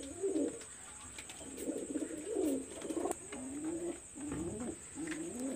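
A Khulna high-flyer pigeon coos in repeated low throaty phrases, close and fairly quiet, with a faint steady high whine in the background.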